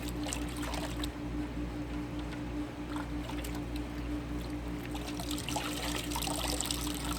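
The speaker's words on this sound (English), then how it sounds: "I'm gonna go ahead and dip it to rinse it off" A washcloth dipped into water to rinse out bar soap, giving a steady close-up sloshing and trickling with a low constant hum underneath, no talking.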